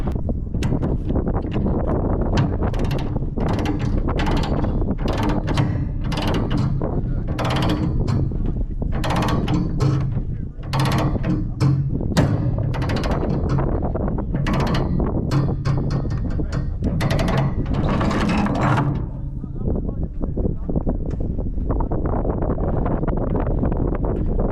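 Ratchet straps cinched tight over a counterweight load on a hotshot truck or trailer, giving a series of loud, quick ratcheting clicks and mechanical clatter up close, with steady wind rumbling across the microphone throughout.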